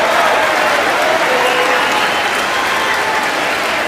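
Members of the U.S. Congress cheer and applaud during a State of the Union address, a dense, steady burst of clapping with some cheering that fills the hall throughout.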